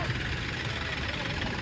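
A tractor engine idles on a farm during groundnut harvest work, a steady low rumble that runs throughout and continues without a break.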